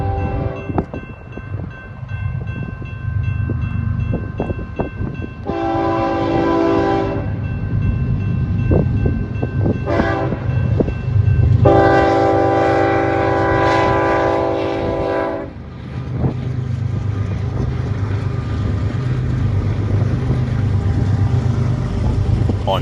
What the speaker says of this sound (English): A BNSF westbound manifest freight train sneaks around the curve